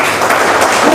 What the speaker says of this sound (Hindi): एक बार जोरदार ताली बजा दें इनके लिए